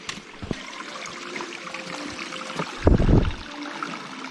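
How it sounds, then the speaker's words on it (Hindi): Water trickles steadily from a natural spring along the Triund trek in Himachal, a soft continuous flow with a brief louder splash near the end and no talk. "यहाँ पर ये पहला नेचुरल सोर्स है पानी का।"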